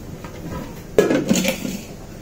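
A lid is set onto a pot of fireless, no-boil tomato and beetroot rice, giving one clear metallic clatter partway through with a brief rattle after, close and alone.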